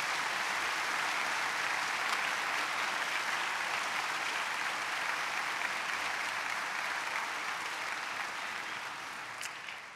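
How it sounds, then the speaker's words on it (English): A commencement audience at Christ Presbyterian Academy applauds faculty and staff with steady, sustained clapping that fills the hall, then fades slightly toward the end. "So we'd take a second and just applaud the faculty and staff of Christ Presbyterian Academy."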